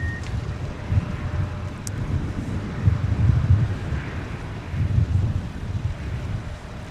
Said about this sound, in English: here come those high winds